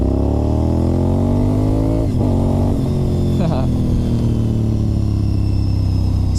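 A Honda RC51 V-twin motorcycle engine revs loud and close, its deep throbbing harmonics rising and falling through several throttle blips over a constant heavy rumble.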